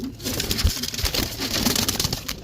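A homing pigeon hen gives soft, low coos close by, repeating in short throaty pulses over a steady hiss of background noise, with no one talking.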